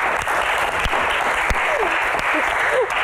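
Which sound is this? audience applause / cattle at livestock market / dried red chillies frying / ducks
audience applause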